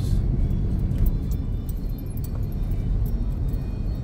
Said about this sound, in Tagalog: Tingnan mo, bumper to bumper po ang traffic dito.